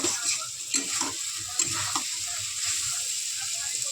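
Masala sizzling and being stirred in a pan for a banana flower curry with prawns, a steady close frying hiss with occasional clinks and scrapes of the spatula, no talking.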